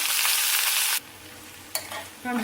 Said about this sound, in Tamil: இந்த அளவுக்கு நமக்கு வதங்கினா போதும்